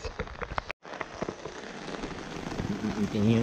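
Heavy rain pours down outdoors in the Philippines as a steady dense hiss of drops that swells louder near the end, with a brief cut early on.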